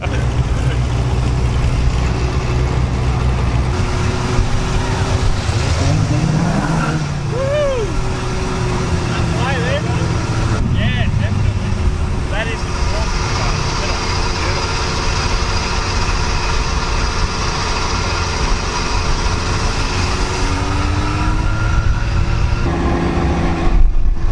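A Goggomobil microcar's small engine idles steadily for a long stretch at a car show, with a low, continuous throb, while people talk over it.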